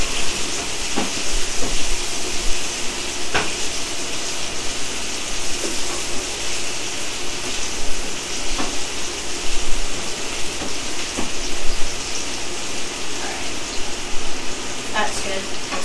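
Potatoes sizzle in a hot pan with a steady, fairly loud hiss, broken by scattered scraping clicks as they are stirred, close by and continuous.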